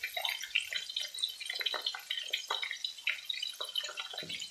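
Fish deep-frying in a pan of hot oil until crispy gives a steady dense crackling bubble throughout, close and even with no voices.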